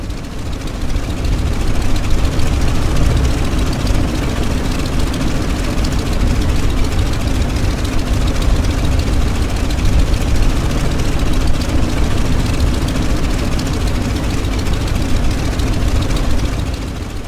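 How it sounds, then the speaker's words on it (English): A Corsair's piston aircraft engine idles steadily while warming up in Microsoft Flight Simulator, a loud, continuous low rumble with a buzzing propeller drone and no voices. "we wait for the engine to continue to warm"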